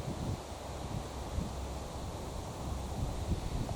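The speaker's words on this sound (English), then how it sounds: "the wind's shaking the tripod a little bit" Cold wind blowing outdoors buffets a camera on its tripod, giving a steady, low, rumbling rush of wind noise with slight swells and no voices.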